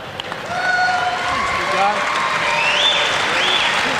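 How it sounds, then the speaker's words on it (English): Crowd applause for a retiring men's volleyball coach at an IPFW Mastodons home match, a steady broad wash of clapping throughout with an announcer's voice talking over it. "Applause for Coach Danny Johnson"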